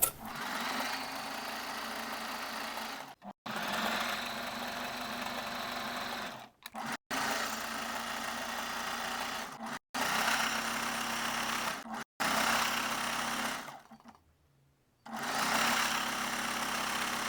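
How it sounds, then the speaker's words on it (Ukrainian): A sewing machine runs a wide stitch along elastic at the lower edge of a bust piece, humming loudly in several long bursts separated by brief pauses. "Широкою строчкою прокладаємо резинку по низу бюста."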